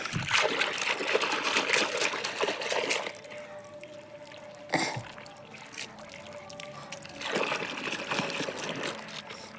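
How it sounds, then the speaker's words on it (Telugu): Water runs and splashes from a tap, loud at first, then quieter, with a brief splash and the flow picking up again near the end. "వాటర్ వస్తున్నాయి."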